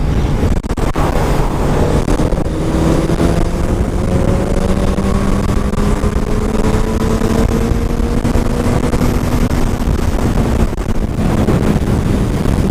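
A 600cc sport motorcycle engine revs steadily and loudly throughout, its rising engine tones climbing slowly under heavy wind buffeting, with no talking.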